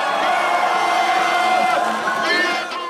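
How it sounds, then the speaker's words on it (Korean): A packed football stadium crowd roars and chants for Gwangju FC, a sustained wall of cheering voices that stays loud before easing slightly at the end. "관중들은 목이 터져라 광주 FC를 외쳤습니다."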